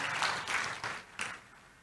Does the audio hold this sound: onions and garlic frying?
no